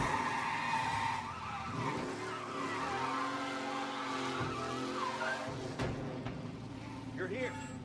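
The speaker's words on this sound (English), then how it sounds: "Be alert for a race car out on the roads tonight." Race car engine and tire skid sounds from the video game Mafia, a steady roaring drone with squealing sweeps, loud throughout and mixed with background game music and voice-like tones.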